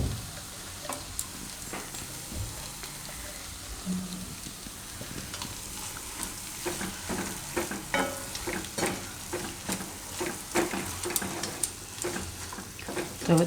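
A white cashew and peanut gravy goes into a hot pan for methi bhaji and sizzles, with steady frying crackle, scattered stirring scrapes and clicks growing busier toward the end, close and moderately loud, without speech.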